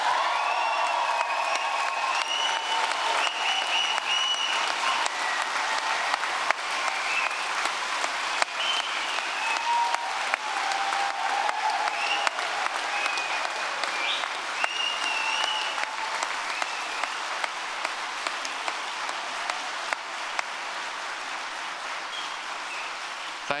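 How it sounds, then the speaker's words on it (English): A large graduation audience gives sustained, dense applause with cheers, steady and full for over twenty seconds without letup. "give it the loudest clap and the rapturous cheer"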